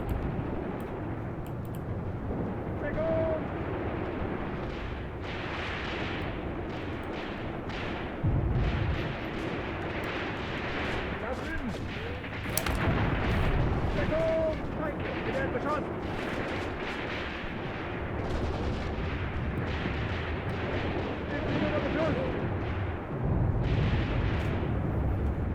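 Artillery shells burst repeatedly in a World War II Eastern Front battle video game with German Wehrmacht troops, heavy booms landing near and far over a continuous roar of battle, with someone talking over much of it.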